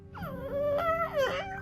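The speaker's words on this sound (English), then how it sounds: "She's starting to make cute puppy noises." An eight-year-old pug whimpers in a series of high, wavering whines, close by and fairly soft, with no talking.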